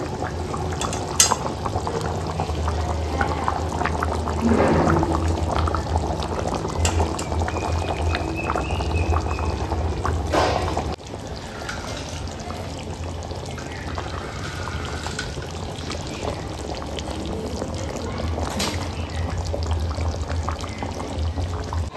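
Egg curry broth bubbling at a steady boil in a pot, a continuous close simmer with occasional louder pops and a faint clink partway through, no voices.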